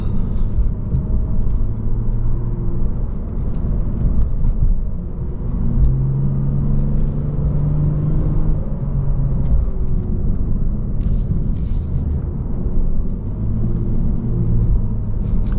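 A 2022 Lexus RC350 F Sport driving on Page Mill Road, heard from inside: a steady engine drone and road rumble throughout, with mild rises in engine pitch and a few faint clicks, no talking.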